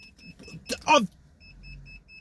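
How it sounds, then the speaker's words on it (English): A car beeps repeatedly in short, evenly spaced electronic tones, with a brief rustling clatter in between, heard from inside the vehicle. "Why are you beeping at me?"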